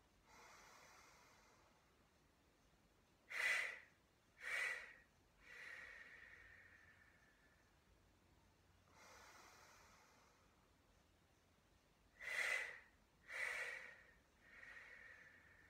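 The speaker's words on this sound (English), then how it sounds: "Three-part exhale." Yoga three-part exhale breathing, slow nasal breaths in followed by staged hissing exhales in bursts of three, repeated twice, faint and close in a quiet room.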